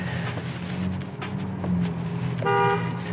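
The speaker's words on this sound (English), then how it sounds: "there's so much traffic" Heavy road traffic rumbles with a steady engine drone, punctuated by a couple of short car horn toots and a longer honk near the end, fairly close.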